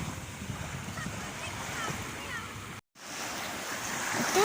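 Black Sea surf washes continuously onto the beach at Odesa, with wind buffeting the microphone and a brief dropout partway through.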